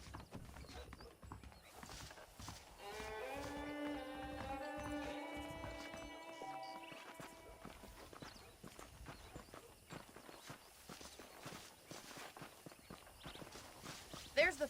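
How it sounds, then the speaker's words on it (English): Hooves clip-clop in a steady walking rhythm as a horse is ridden in Red Dead Redemption, with quiet footfalls under a brief stretch of spoken dialogue and a soft musical tone midway. "Okay, let's see if you can still ride a horse."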